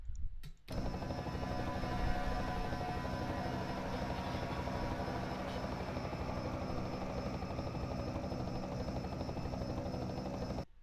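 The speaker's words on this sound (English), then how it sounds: "Let's take a flyby from the helicopter." A helicopter passes by in a racing broadcast, its rotor and engine roar rising abruptly and holding loud and steady for around ten seconds.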